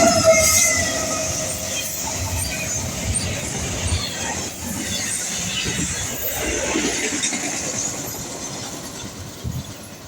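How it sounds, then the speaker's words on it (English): A long eastbound intermodal freight train hauled by C6M locomotives rolls past at a moderate distance, steady rumbling and clattering wheels with occasional high metallic squeals throughout. "His first train was an eastbound intermodal with only C6M junk for power."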